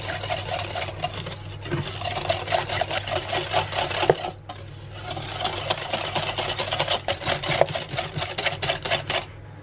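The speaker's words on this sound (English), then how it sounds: "And give it all a good whisking." Whisk beating baking powder and arrowroot in a bowl, a fast steady rhythmic scraping and clicking that runs almost continuously, pausing briefly midway, close and fairly loud.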